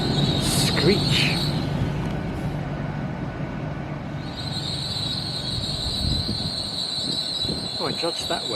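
A five-carriage train rumbles steadily at Reston station, Berwickshire, with high metallic wheel screeches, sustained whines that fade in and out over the running noise.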